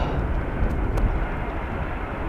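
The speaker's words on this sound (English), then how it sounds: "Now here is a little Airbus." An Airbus airliner arrives on runway 18R at Amsterdam Schiphol in rainy, windy weather. A brief, steady low rumble sits under broad hissing noise at moderate distance.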